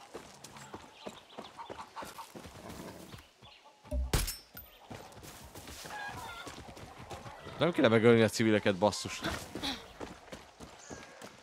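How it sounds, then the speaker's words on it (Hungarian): Horse hooves clip-clop in a rhythmic patter of taps in the game Far Cry 6, mixed with chicken clucks, a brief crash and other game sounds, with someone talking over them throughout. "Ott egy ló."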